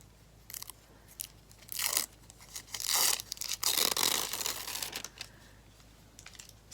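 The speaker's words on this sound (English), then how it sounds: "Peel off the backing." Bondaweb fusible web has its paper backing peeled away from fabric in a stitchery project, making close, loud crackling rips that come in several drawn-out bursts.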